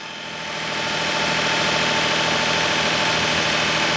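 Daihatsu S210P truck engine idling steadily after a revival, a loud, close, even mechanical rumble with a constant vibrating drone that holds unchanged throughout.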